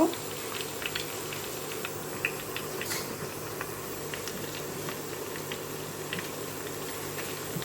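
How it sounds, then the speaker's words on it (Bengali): Chicken simmering in a pot with garlic paste for a chicken bhuna, with a steady low bubbling and watery patter that holds at an even level throughout, near and undisturbed by talk. "এটা দিয়ে আমি চিকেনটাকে একটু আগে সিদ্ধ করে নেব"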